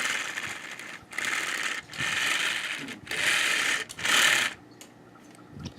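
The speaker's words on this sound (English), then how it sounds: "you can see the treads work excellently. Makes that cool noise." Plastic treads of a Lego crawler crane roll in short bursts, a whirring, clattering mechanical buzz starting and stopping about four times, up close and fairly quiet.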